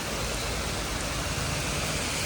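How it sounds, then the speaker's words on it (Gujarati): Heavy rain pours down in a steady, dense roar of broadband noise, continuous and close, with no voices. "જોરદાર વરસાદ વરસી રહ્યો છે"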